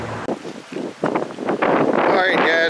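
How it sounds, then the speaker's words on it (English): Gusts of wind batter a microphone outdoors on a windy day, building into loud, rumbling buffeting that mixes with muffled, voice-like murmurs. "Sorry if the wind is messing us up"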